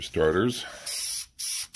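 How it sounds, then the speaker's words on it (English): An aerosol can sprays a quick light coat onto a Campo del Cielo iron meteorite sphere, giving three short hissing bursts right after a man's brief spoken words. "We're ready to start spraying. So here we go. Just a quickie, light coat, all surfaces."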